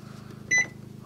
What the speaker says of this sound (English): So the microwave's running.